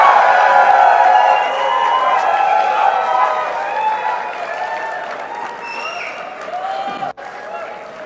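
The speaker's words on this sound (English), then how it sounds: "Please join me in giving them a round of applause." Loud, steady audience applause and crowd noise fill a Redmi 12 series smartphone launch event in 2023, slowly fading over several seconds with tonal music lines running underneath.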